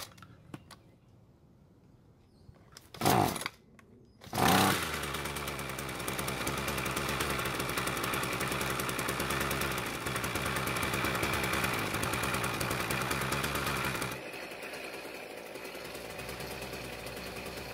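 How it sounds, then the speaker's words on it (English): A small two-stroke engine on a Ryobi gas string trimmer sputters, catches after a couple of pulls, then runs loudly at a steady buzzing idle before dropping slightly in pitch. "I'll then try and start the engine."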